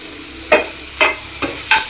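Dill and coriander greens fried in a pan over a low stove flame, heard as four short sizzling bursts as the greens are stirred, separated by near-silence.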